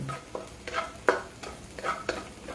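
Garlic and kangkong sautéing in a pan, a soft sizzle under intermittent stirring scrapes and light utensil taps, fairly quiet and close, with no talking.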